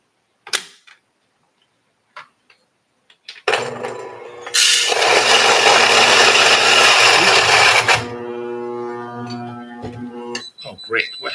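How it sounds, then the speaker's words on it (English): A coffee grinder set to a very coarse grind runs loudly for several seconds after a few clicks and knocks, then drops to a lower whirring hum before stopping, with a few handling sounds around it. "We're going to grind it in a very coarse grind."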